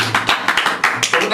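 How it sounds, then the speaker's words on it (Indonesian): A few people on a podcast clap in a short run of sharp, separate claps close to the microphone, about eight in quick succession. "Tepuk tangan Marnak"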